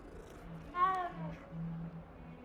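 A cat in Hogwarts Legacy gives one clear, rising-then-falling meow lasting about half a second, close and moderately loud over a low background hum.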